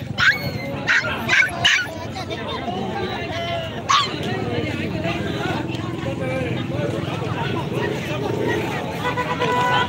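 Dogs at the Bac Ha dog market in Vietnam: a burst of yips and barks near the start, then a single bark and scattered whimpers over steady crowd babble, passing vehicles and nearby talk.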